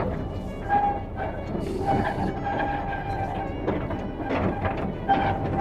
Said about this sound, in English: And now we get going on the railway up the side of the quarry.